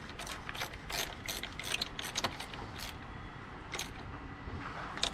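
Ratchet wrench clicking while tightening a part on a 2003 Dodge Ram 1500 Hemi, rapid metallic ratcheting in quick repeated strokes, close and clear, with no talk.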